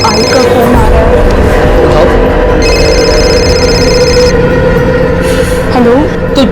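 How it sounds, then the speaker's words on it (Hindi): A telephone rings in repeated bursts amid busy background sound and overlapping voices, the electronic ring cutting in and out over about six seconds. "आई का फोन आ रहा है।"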